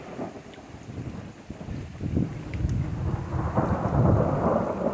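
A heavy rainstorm pours down steadily beside a newly built backyard pond, with low rolling thunder building and rumbling through the hiss of rain and gusting wind.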